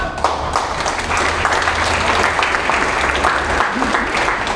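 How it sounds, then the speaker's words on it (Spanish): Conference audience applauding steadily, a thick, even roar of many hands clapping at fairly close range, continuing throughout with no speech over it. "Démosle un fuerte aplauso."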